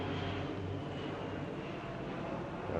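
A fixed-wing airplane drones steadily overhead above a residential street in Pelham Bay, the Bronx, New York City, a continuous broad engine roar with no voices.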